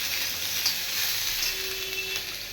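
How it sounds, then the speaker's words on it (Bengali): Onion and capsicum frying in a pan give a steady, close sizzle with a continuous hiss and no voices. "আগে পেঁয়াজ আর ক্যাপসিকামটাকে ভেজে নিই।"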